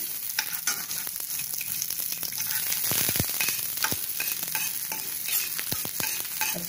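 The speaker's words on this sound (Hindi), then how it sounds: "अच्छी तरह से इसको भूनना है" Garlic sizzles in hot ghee or oil in a soup pan, a steady close crackle broken by occasional sharp clicks and scrapes from stirring.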